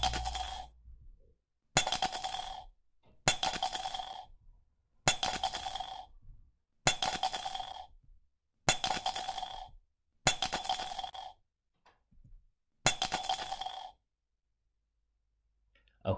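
Coins, including 2p coins, clink into a ceramic mug in eight separate bursts spaced about every second and a half, each a bright ringing clatter that fades before the next drop.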